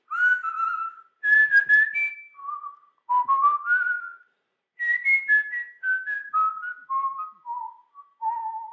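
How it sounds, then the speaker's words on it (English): A single person whistles a slow, soothing melody alone, clear and close, in several phrases of sustained, gliding notes separated by short pauses. "That is just something I whistled and I said, let me record this real quickly."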